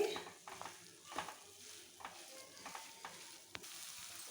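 Beetroot fried with semolina and coconut is stirred in a pan for a sweet laddu, giving a faint, quiet frying hiss broken by scattered scraping strokes of the spoon.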